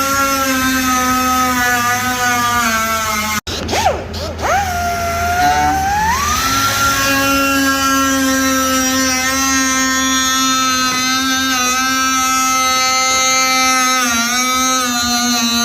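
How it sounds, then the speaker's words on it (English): A wire wheel on a power tool cuts along a car ducktail spoiler for a Lexus IS300, a steady high-pitched whine that pauses briefly, then dips and rises in pitch under load before holding steady again. "now we're gonna use a wire wheel and just do a straight cut along both"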